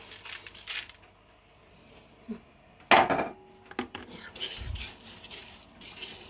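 Roasted rice grains being stirred into homemade fermented fish, Swedish-style pla ra, with soft scraping and clinking of utensil against a bowl, a brief louder burst of rustling midway, then quieter mixing sounds.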